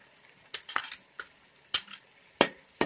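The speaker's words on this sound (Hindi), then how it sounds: "अच्छे से मिक्स कर लें।" A spoon stirs yogurt into soft tomato masala in a pan for egg dum biryani, making faint scattered scrapes and light clinks against the metal in a quiet setting.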